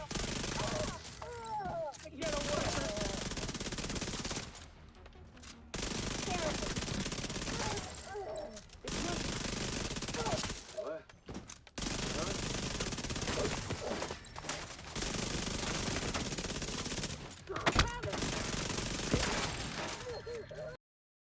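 Sustained minigun fire in The Division 2 with a Hunter's Fury build, loud dense rattling bursts lasting several seconds each, broken by brief pauses, with game voice callouts and other combat noise mixed in.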